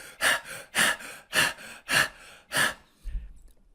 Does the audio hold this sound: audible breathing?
yes